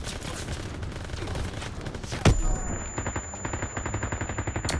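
Machine-gun fire in a Call of Duty WWII campaign level rattles out in rapid repeated bursts, joined by one sharp louder shot and a lingering high ringing tone, with a steady rhythmic stream of shots continuing afterward.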